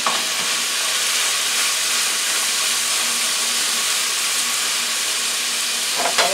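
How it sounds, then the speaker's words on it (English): Pasta is stirred in a sizzling pan, a loud, continuous broadband frying hiss that holds steady throughout, with a few faint scrapes of the stirring utensil and no voices. "want to stir up the pasta"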